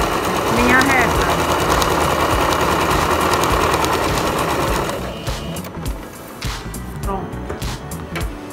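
A sewing machine stitches fabric for a school pencil case, a loud continuous run of fast stitching that slows into a few short reverse bursts for backstitching near the end.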